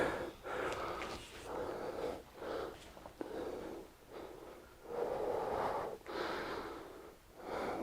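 Deep, audible breaths during a power yoga flow, long airy inhales and exhales repeating in a steady rhythm of about six cycles, close and fairly loud with no talking.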